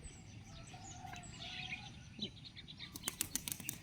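Pigeons take off with a burst of flapping wings near the end, under faint distant bird calls and soft outdoor ambience.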